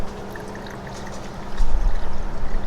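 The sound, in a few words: coolant flush being poured into a 1937 Ford's cooling system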